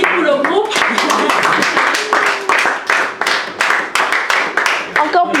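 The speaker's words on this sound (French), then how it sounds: "Ben, on applaudit pour le groupe." A group at a New Year's Eve church Bible quiz gets rhythmic clapping from the audience, a dense run of close hand claps with brief pauses, mixed with chatter throughout.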